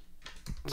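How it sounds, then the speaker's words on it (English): Two quick key presses, Command and spacebar, on an Apple computer keyboard, close and fairly soft, with no talk over them. "I just did the Apple and spacebar."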